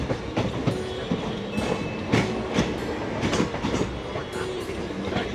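A train pulls out of Krishnanagar station with heavy rumbling and rhythmic clickety-clack of wheels over rail joints, steady and close, with faint squeals and low voices in the background.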